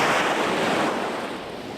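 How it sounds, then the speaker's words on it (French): Steady roar of sea waves breaking along a coastal path, mixed with wind buffeting the microphone, continuous and loud without pause. "près de la mer, les vagues, le vent"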